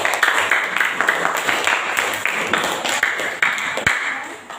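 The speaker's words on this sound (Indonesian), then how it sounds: "tepuk tangan untuk kelompok 1" Students in a classroom clap for a presenting group, a modest scattering of hand claps with one sharp louder clap near the end and voices mixed in.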